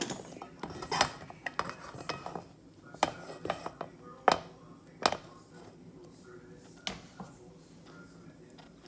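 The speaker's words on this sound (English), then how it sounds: "So I'm going to pop the potatoes in." Chunks of potato drop into a soup pot already holding leeks and onion, making a scattered run of sharp knocks and clinks against metal at an uneven pace, fairly close and moderate in volume.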